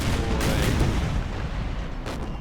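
Cannon artillery fire in an American Civil War video game, with Union guns facing Confederate cavalry: a dense, rumbling barrage of overlapping booms and blasts, loud and continuous, with a couple of sharper reports standing out and no speech.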